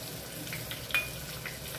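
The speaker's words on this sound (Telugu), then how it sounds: "జీలకర్ర అయితే వేగిపోయింది. ఆనియన్ కూడా వేసుకుంటున్నా." Chopped onion going into hot oil with cumin seeds already toasted, giving a steady soft sizzle with faint stirring scrapes and a brief louder hiss near the middle, close and alone.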